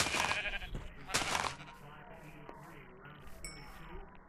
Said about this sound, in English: Oh, and it's a lot of sheep, too.